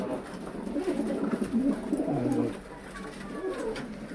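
Pigeons cooing close by inside a box, soft repeated low coos running through most of the stretch, with faint rustling and no talk.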